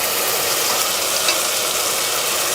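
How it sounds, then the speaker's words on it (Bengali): Chicken curry spices being sautéed in oil in a pan over medium heat give a loud, dense, continuous sizzle and frying hiss, close and steady with no pauses. "মিডিয়াম হিটে মশলাগুলোকে 3-4 মিনিট মতো আমরা কষিয়ে নেব"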